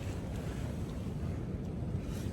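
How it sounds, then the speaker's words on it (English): Strong, steady wind roars across an exposed spot on the Appalachian Trail, buffeting the microphone with a constant low rumble and no let-up. "really, really, really windy"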